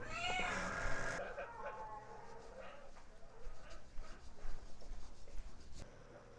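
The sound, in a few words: cat meowing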